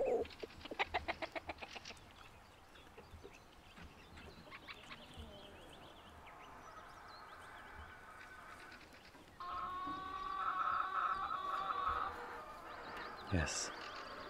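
Chickens scratching about on pasture land give off scattered clucks and soft bird calls, with a louder call near the end, while a person talks over them.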